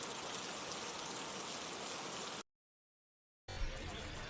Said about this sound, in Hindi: आज सुबह से तेज़ बारिश हो रही है